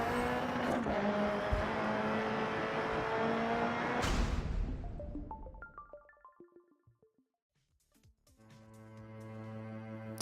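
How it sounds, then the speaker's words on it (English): Dirt Rally video game audio: a rally car engine roars loudly at full throttle on a gravel stage, then the sound drops to near silence before game tones and a steady hum come back. "now you can just go full throttle all the way to the finish"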